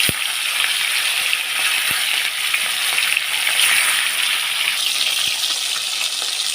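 Pieces of rohu fish fry in hot mustard oil in a kadai, filling the space with a loud, dense, continuous sizzle and crackle heard up close with no talking.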